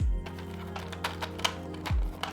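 Clacky keystrokes on a Kaze 40% mechanical keyboard build, a quick irregular run of close, crisp presses over a low background hum.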